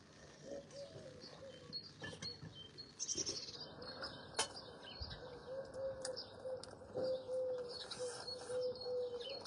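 Birds chirp and tweet intermittently in the background, with a faint cooing call and soft outdoor ambience.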